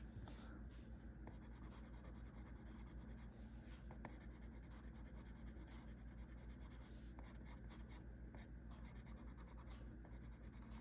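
Colored pencil wax rubs steadily on paper as someone shades a drawing of an American crow, producing a very faint, continuous scratchy stroking.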